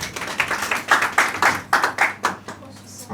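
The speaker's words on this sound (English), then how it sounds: "Please give her a round of applause." Scattered applause from a small audience after a speaker's request at a public address, with distinct individual claps in an uneven rhythm, fairly close, fading toward the end.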